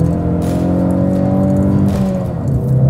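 A 2022 Ford Mustang EcoBoost engine revs steadily while driving, a loud, continuous drone with shifting pitch heard on its own, no talking.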